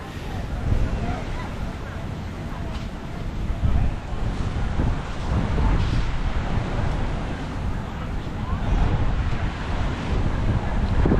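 Gusty wind buffets the microphone on Waikiki beach, a steady low roar with stronger surges, while surf washes faintly in the background.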